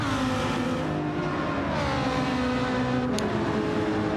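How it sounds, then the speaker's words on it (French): Ferrari race car in a racing video game held at full throttle along a straight, its engine a loud, steady, high-pitched whine that continues throughout with no talk. "Allez, on y va, pleine charge sur cette ligne droite."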